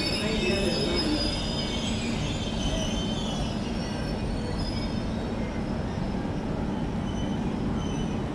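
Regional train moving at a station platform, a continuous rumble of rolling wheels with metallic squealing layered over it, steady and fairly close, without talking.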